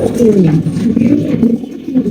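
Black King pigeons coo close by, a low, throaty, rolling call repeated in a soft pulsing rhythm over a couple of seconds.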